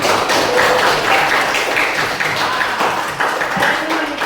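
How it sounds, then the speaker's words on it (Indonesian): A classroom of students clapping for two classmates, a loud, dense patter of hands with some taps and thumps and faint voices underneath. "Oke, tepuk tangan untuk dua-duanya."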